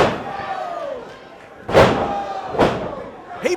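A wrestler is thrown into the ring post at a live wrestling event, producing two heavy, booming slams about a second apart amid crowd noise and shouting voices.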